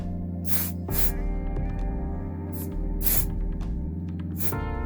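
Short hissing bursts of spray paint go on in a light coat around a Midnight Pumpkin model. Several separate sprays are heard over a steady low hum with background music.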